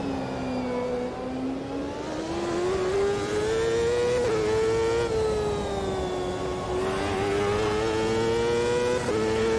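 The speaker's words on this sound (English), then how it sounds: "Narrow valley, so it just sounds, just pure race car exhaust sounds." Race car exhaust on a straight at Road America in the sim racing game Automobilista 2, a loud steady engine drone that rises and holds in pitch with brief shifts, alone without talk.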